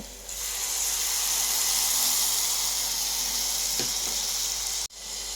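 Chopped onion and green chilli frying in oil in a pan, a steady close sizzle that holds throughout, with a brief scrape near the end and no talk.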